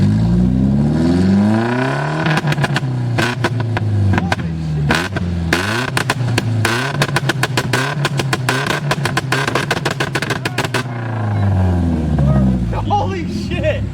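Loud revving of a car engine with no muffler, rising and falling through repeated bursts with rapid popping and crackling on the limiter, close and harsh, with people talking over it.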